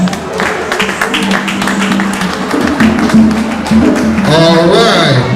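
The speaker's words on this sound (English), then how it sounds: "Give yourselves a round of applause." Audience applause at a Kwanzaa celebration in San Francisco, a dense, steady patter of clapping that runs the whole stretch, mixed with voices and tonal sound from the room.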